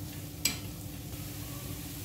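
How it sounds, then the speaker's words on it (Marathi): Onion sautéing on a flat tawa for tomato chutney, a steady low sizzle with a brief scraping stir near the start, close and continuous with no talk. "कांदा छान परतून झालेला आहे."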